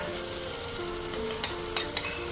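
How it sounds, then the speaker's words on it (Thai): Chili fish sauce hits a hot pan of cooking shrimp for a Thai scrambled egg dish, giving a steady close sizzle with a few sharp clinks of a utensil against the pan near the end. "ใส่พริกน้ำปลาที่เราเตรียมเอาไว้นะคะลาดลงไปเลยค่ะ"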